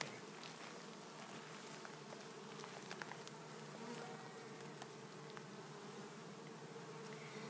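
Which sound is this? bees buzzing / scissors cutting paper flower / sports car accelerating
bees buzzing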